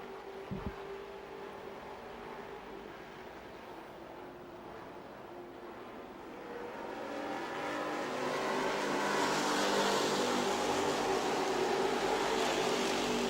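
Grand National Sportsman race cars lapping the Music City Motorplex short track in Nashville, heard as a faint, distant engine drone that swells and grows louder about halfway through, with no voices.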